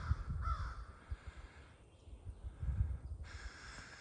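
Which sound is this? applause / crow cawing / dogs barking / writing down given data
crow cawing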